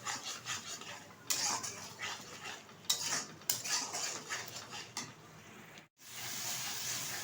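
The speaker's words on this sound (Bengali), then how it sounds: "2 মিনিট মতো হাই আঁচে কষিয়ে নেব" Spice paste stir-fried on high heat for a chicken curry, with close, irregular clattering scrapes of a utensil against the pan over a soft sizzle, and a brief pause near the end.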